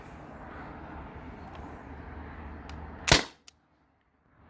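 A single sharp pop of a T4E TR50 paintball-style marker firing a round through a chronograph, with a brief click just after and a soft hiss of background air before it.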